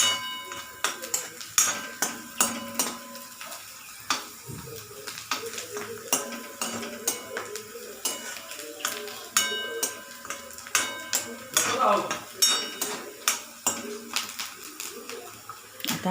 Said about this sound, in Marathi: कांदा आपला होत आलेला आहे, थोडा अजून भाजून देते।